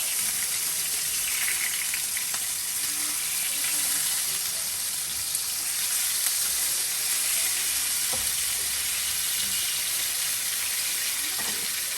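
Hamburger steak patties, flat and palm-sized, fry in a pan with a steady, dense sizzle that holds close and loud throughout, broken by a few faint clicks and scrapes and no talking.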